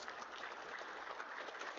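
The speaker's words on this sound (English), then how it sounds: "let's give those people a round of applause, if you would, please" Audience applause at a school district Athletic Hall of Fame induction ceremony, a soft, even patter of many hands clapping that stays steady and fairly distant.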